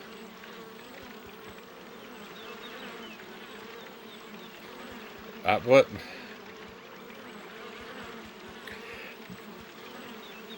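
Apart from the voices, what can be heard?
buzzing bees in video game Piglet's Big Game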